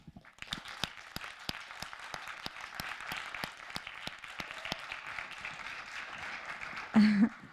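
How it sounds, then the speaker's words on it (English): An audience claps for a team of students after their thesis defense at a game design school, steady dense applause with a few sharp individual claps standing out, ending with a brief vocal sound. "Please, a round of applause for them."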